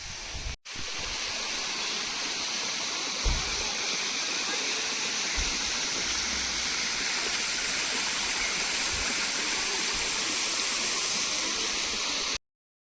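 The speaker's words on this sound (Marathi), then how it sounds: "मी तुम्हाला इथला छोटासा धबधब्यापासून आपल्याला मंदिराकडे जाणाऱ्या धबधब्याचं सगळं दाखवलं आहे" A small waterfall stream near the Ambrushi cave temple at Amsari pours in a steady, close, broadband rush of falling water that runs unbroken for about twelve seconds, with a brief dropout near the start and no voices.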